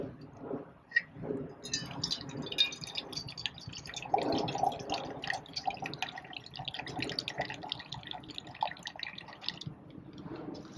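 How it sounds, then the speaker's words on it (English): Water trickles and drips from a Berkey travel filter into a metal canteen cup, a steady close pour with small splashes and a gradually filling tone, no talking. "We'll get our canteen cup and let's fill some water up."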